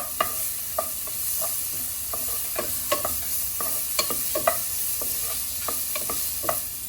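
Garlic sautés in a little oil in a pan, ahead of cooking fatty duck meat. A steady close sizzle runs under regular light taps and scrapes of a stirring utensil, with no speech.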